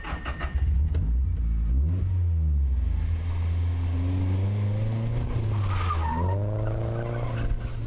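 A drift car slides at a drift school, its engine droning and revving in a steady howl while the tires squeal and skid continuously, loud and close, with the engine pitch rising and falling through the slide.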